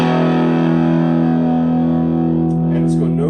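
A heavily distorted electric guitar rings out in a sustained, buzzing chord that slowly decays, with a bit of noise near the end.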